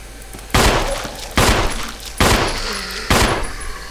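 Four loud, evenly spaced gunshots ring out in the video game Resident Evil HD Remaster, each with a sharp attack and a ringing decay over a steady background hum.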